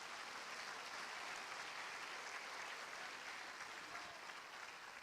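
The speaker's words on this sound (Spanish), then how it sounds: "Dale el aplauso al Señor," Church congregation applauding at a sermon, a steady, dense wash of many hands clapping that fills the whole stretch at an even level, with no voices standing out.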